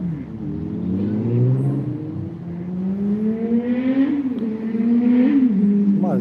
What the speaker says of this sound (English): Somebody's out there on a motorcycle.